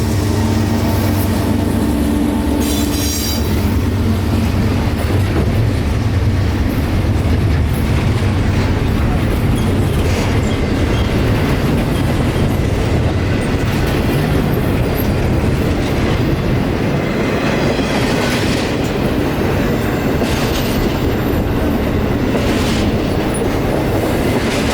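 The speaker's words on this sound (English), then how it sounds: "This intermodal train coming out of Tampa was turning north here at Lakeland Junction" A CSX intermodal freight train, Q046 out of Tampa, rolls loudly and continuously past Lakeland Junction, a steady rumble with rhythmic wheel clatter and occasional higher squeals, close to the track throughout.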